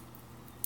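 Scissors snip once, quickly and faintly, cutting open a banana-flavored Moo Magic drinking straw filled with beads, in an otherwise quiet room.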